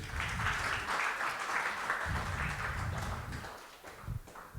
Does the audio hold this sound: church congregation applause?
yes